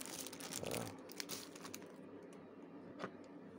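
Clear plastic packaging around a large toy figure crinkles and crackles as it is handled and opened with scissors, busy at first and then quieter, with a sharp crisp snap near the end.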